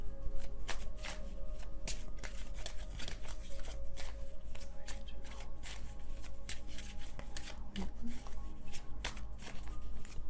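Tarot cards shuffle steadily and close by, a dense riffling and sliding that runs without break, with no voice over it.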